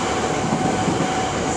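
A KRL commuter train runs through a busy level crossing in Jakarta between Pasar Minggu and Tanjung Barat stations, producing a steady, loud, close rumble of rolling wheels throughout.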